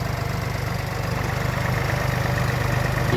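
A truck engine idling unloaded with no revving, a steady low rhythmic diesel-like throb that stays loud and even throughout, no voices.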